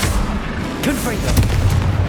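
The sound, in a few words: Confringo fire spell explosion in the video game Hogwarts Legacy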